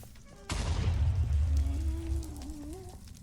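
A ghast fireball explosion in Minecraft: one sudden loud boom with a long low rumbling tail that fades over a few seconds, heard alone without talk.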